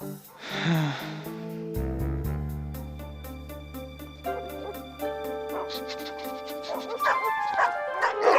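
Dogs bark and yip in short bursts over a busy cartoon-style music score from the animated series Fillmore!, the barking near and lively, with a voice or two mixed in.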